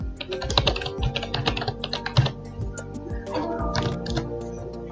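Card number typed on a computer keyboard: a close run of quick, uneven key clicks in bursts, with brief pauses and a faint voice underneath.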